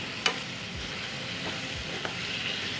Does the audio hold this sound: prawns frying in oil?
yes